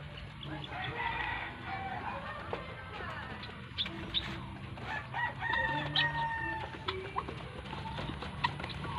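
Native chickens cluck and a rooster crows in the background of a quiet outdoor yard, with scattered knocks and faint distant sounds.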